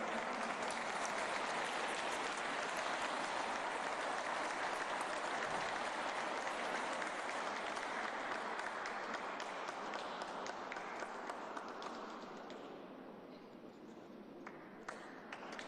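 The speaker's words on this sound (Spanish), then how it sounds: "Brindemos nuevamente un aplauso a las maestras y maestros galardonados." Sustained crowd applause for award-winning teachers at a ceremony, dense and even for several seconds before gradually thinning and fading toward the end.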